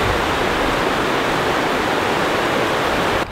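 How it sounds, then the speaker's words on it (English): A high, swollen river rushes beside a walking path on a long creek-side walk, a steady loud wash of flowing water filling the whole clip without pause. "Walking next to the river, which is definitely up."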